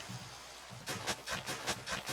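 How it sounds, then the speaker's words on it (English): Rain falls in Minecraft, a faint steady patter at first, then a run of soft rhythmic bursts of rainfall noise. "Ooh, it's a-raining."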